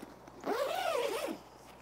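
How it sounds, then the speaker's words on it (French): Two zips on a feeder rod sleeve bag are pulled open together in one long smooth rasp, close and clear, lasting under a second. "Donc là que j'ouvre en une seule fois avec les deux zips."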